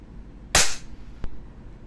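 A Double Bell VSR10 airsoft sniper rifle fires a single sharp, close crack, followed moments later by a second brief snap over faint background hiss.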